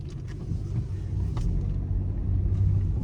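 A car engine rumbles low and steady while the car is being parked, the drone staying close and constant with a slight swell partway through and faint brief noises above it.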